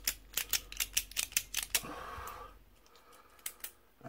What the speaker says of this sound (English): For the triple clickety click